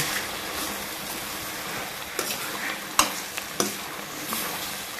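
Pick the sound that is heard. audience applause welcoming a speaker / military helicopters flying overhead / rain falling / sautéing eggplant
sautéing eggplant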